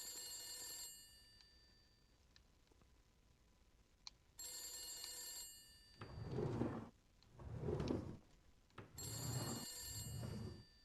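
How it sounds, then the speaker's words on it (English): A telephone bell rings in bursts within a horror video game, three rings separated by pauses, loud and close, with rustling and thumping game sounds in the gaps between them. "Please answer the phone."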